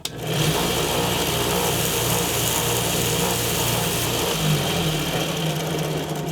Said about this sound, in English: for the outside shape, we're gonna use this sander